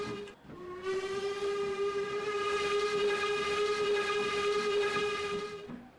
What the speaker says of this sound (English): There's the horn.